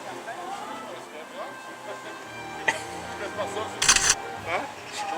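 A camera shutter clicks once, sharp and close, amid outdoor chatter and background noise, with people talking around it.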